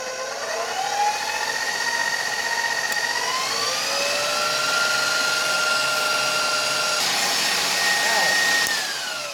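An electric stand mixer whirs steadily, loud and close, with a whining motor pitch that shifts as it beats red food colouring into stiff pink French macaron batter.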